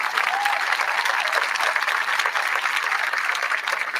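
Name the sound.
applause for hospital board members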